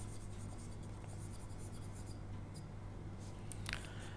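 Chalk or a marker scratches across a board as a mathematical proof is written out, faint and intermittent over a steady background hum.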